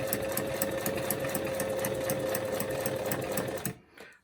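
Sewing machine running steadily at moderate speed while double stitching through clear acetate, a continuous even mechanical whir with rapid needle rhythm that stops abruptly near the end.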